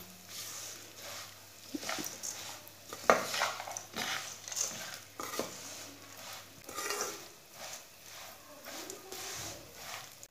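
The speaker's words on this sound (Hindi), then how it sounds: "इसे चम्मच चलाते हुए भूनना।" A spoon stirs vermicelli roasting in a pan over a medium flame, giving soft scraping and light clinks against the metal with a faint sizzle underneath, close and fairly quiet.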